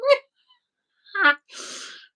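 A single sharp sneeze with a quick intake and breathy burst, close and clear, followed by a brief silence and another short sneeze-like exhale.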